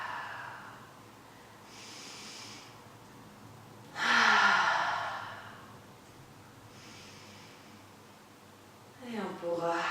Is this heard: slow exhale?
yes